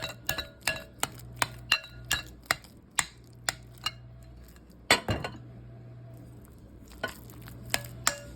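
Cooked potatoes mashed with a fork-like utensil in a pot, giving repeated sharp metallic clinks and scrapes against the pot in an irregular rhythm, close and fairly quiet, with no talking.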